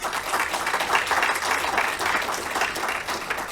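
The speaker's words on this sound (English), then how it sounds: "I'm not so sure you ought to be clapping for that part." Audience applauding at an Emotions Anonymous talk, a dense, sustained round of clapping from a crowd, moderately loud and continuous.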